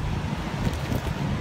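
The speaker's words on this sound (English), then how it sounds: "Getting a little windy for you." Wind buffets the microphone in a steady low rumble while driving through Chicago, a continuous broadband roar with no voices.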